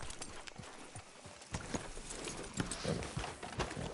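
Horse hooves clip-clop along in a video game, a steady walking rhythm of close, clear hoof strikes with faint background noise.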